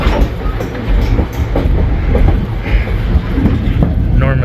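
White Pass scenic train running along mountainside tracks past waterfalls, a loud continuous rumble with wheel clatter, light voices faintly underneath.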